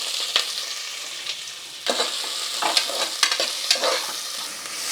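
Crushed garlic and curry leaves sizzle hard in a spoonful of hot ghee for a chicken sukka tempering. The frying crackle is steady and close, with bursts of popping and spitting and no voices.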